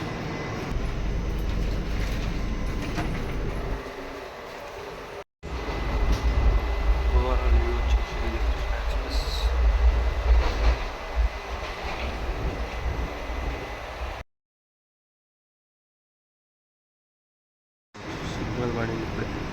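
Inside a coach of the 12406 Krishna Express from Adilabad to Tirupati, a low, continuous rumble and rattle of the running train fills the space, cut by two short dropouts, one a few seconds of silence.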